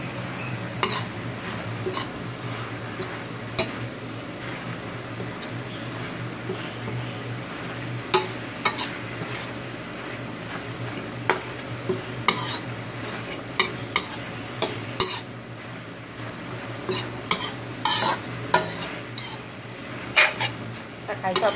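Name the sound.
stir-frying minced pork with holy basil in a pan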